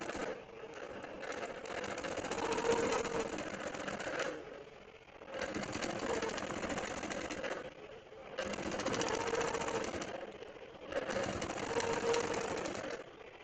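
A longarm quilting machine stitching in four runs of rapid, steady mechanical whirring, each lasting a few seconds with brief quiet pauses between, close and fairly even in loudness.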